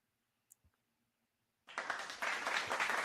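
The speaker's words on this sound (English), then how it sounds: "Gotta give a round of applause here." Clapping bursts in after a short silence and a couple of faint clicks, building into steady, fairly loud applause from a group at a pregame broadcast for a baseball game.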